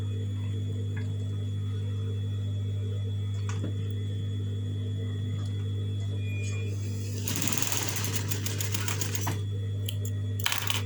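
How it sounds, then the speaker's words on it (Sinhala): A sewing machine stitches gathered fabric ruffles in a rapid, rattling burst of ticking that starts partway through and then stops, over a steady low electrical hum; a short second burst follows near the end. "හරි මැද එකතු කරලා මහනවා මේ විදිහට."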